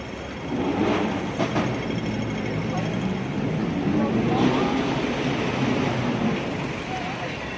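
A train rumbles steadily with broadband noise and wind buffeting the microphone, sounding close and continuous throughout, near the Causeway.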